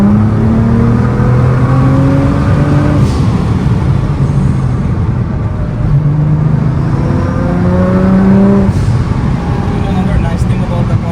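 A 2012 Nissan GT-R R35 makes a short acceleration pull with a loud, rising engine note heard from inside, climbing through the gears as people talk over it.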